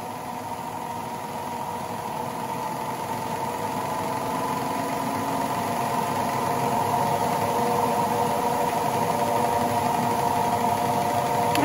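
Arno washing machine spinning at high speed, still accelerating toward 2300 RPM, a steady whining hum with rising tonal lines that slowly grows louder, heard alone without talk.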